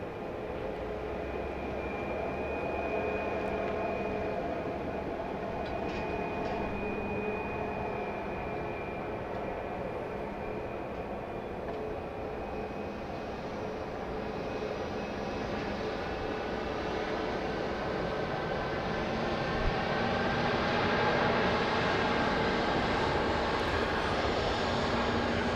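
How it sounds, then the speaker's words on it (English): A Boeing 737-700 from Chicago O'Hare on final approach into Dallas Love Field at night, its engines a steady, loud jet roar with a whining tone that holds unbroken and swells slightly near the end. "4106 from Chicago O'Hare Airport is on final approach"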